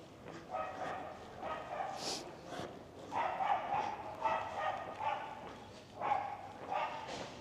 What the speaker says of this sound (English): Isn't the same tiny dog barking?